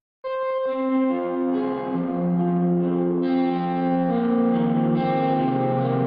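Electric guitar through the Ujam Cinedream plugin's freeze pad effect, held chords smeared into a sustained, shimmering ambient wash with heavy delay and reverb, continuous and fairly loud with no talking.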